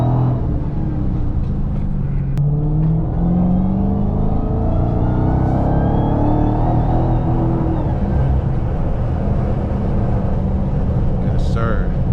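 A 2023 Dodge Charger Hellcat Jailbreak in track mode accelerates hard from inside the cabin, its engine pitch climbing in a long, loud pull with steady road rumble under occasional talk.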